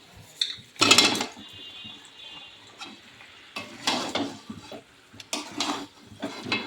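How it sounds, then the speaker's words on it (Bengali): Marinated chicken for a chicken curry is tipped into a hot pan with sudden clattering bursts, a brief sizzle and intermittent scrapes and knocks of stirring, close and without talk. "এবার আমাদের মাখিয়ে রাখা মাংসটাকে আমি এর মধ্যে ঢেলে দেব।"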